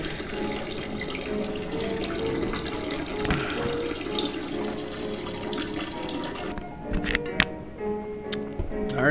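Urination in a horror video game set at a lookout, a steady pouring water stream running continuously at close range, ending with a few sharp ticks and clicks in the last seconds.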